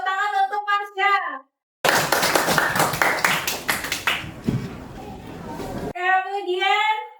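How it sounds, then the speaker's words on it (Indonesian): Children in a primary-school classroom during a Hindu religious education lesson burst into a few seconds of loud, rapid, rhythmic group clapping, with a voice speaking before and after. "Tepuk tangan untuk Marsha."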